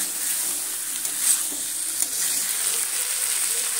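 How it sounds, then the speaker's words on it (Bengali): Mixed vegetables sautéed in an oiled pan, giving a steady close sizzle with light scraping stirs and a couple of soft clinks, no voices. "এইভাবে কষিয়ে নিতে হবে সুন্দর করে"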